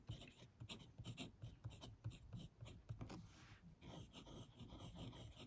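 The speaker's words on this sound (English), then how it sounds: "this stub nib is really, really cool to write with" Close, dry scratching of a fountain pen's stub nib on paper, loaded with Diamine 1864 blue black ink, in a quick uneven run of short strokes and pauses, with no talk over it.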